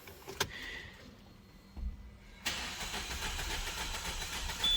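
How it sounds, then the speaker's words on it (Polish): A 2008 Peugeot 207 RC with a 1.6-litre engine turns over without compression: a faint whirring crank follows a couple of clicks and a pause, then a steadier mechanical drone that swells toward the end. "Ale kręci tak. Kręci bez kompresji."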